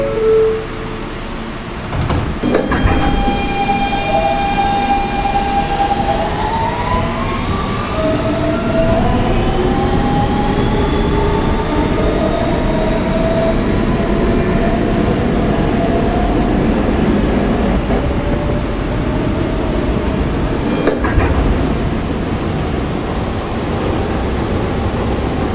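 A Kawasaki R160B Siemens subway car on a Brooklyn-bound R local runs loudly through the tunnel with a continuous rumble, rising and falling motor whine and brief clanks from the wheels.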